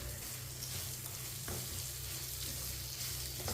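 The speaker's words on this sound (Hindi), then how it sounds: "इसे ऐसे ही चम्मच चलाते हुए भूनना है।" Semolina halwa with grated coconut and white sesame seeds roasts in a pan while a spoon stirs it, a continuous soft sizzle with scraping strokes, heard close and alone.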